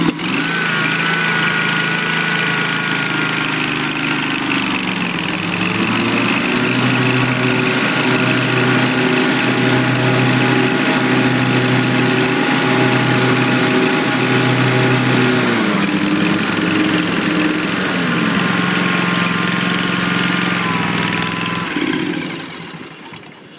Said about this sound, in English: Mower operates, runs exactly as it should.